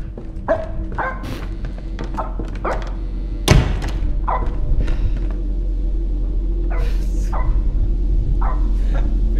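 A dog barks in a horror video game, sharp repeated yelps spaced across the clip with a heavy thud near the middle, over a constant low rumbling drone.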